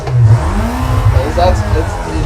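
A manual-transmission import car's engine starting and revving hard, a loud throaty roar rising and holding close by, with a voice talking over it.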